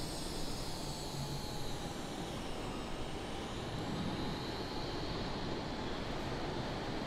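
Aircraft engines in Microsoft Flight Simulator during a hurricane-hunting flight over the Gulf of Mexico, a steady broad roar with wind-like rushing that holds evenly throughout, with no talk.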